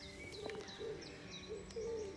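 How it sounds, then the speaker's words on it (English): Soft, low cooing calls repeat a few times against a quiet outdoor background, with faint higher chirps scattered between them. "listen to the birds."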